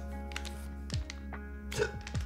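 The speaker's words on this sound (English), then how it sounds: "I have the fucking hiccups." A man hiccups a few times at irregular intervals, close to the microphone, with light keyboard clicking and a steady hum in the background.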